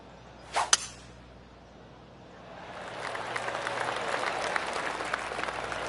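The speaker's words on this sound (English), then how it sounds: "Oh, golf clap." Soft golf-clap applause from a crowd in the PGA 2K25 video game rises gently after two sharp snaps near the start, a steady patter of light clapping that carries on to the end.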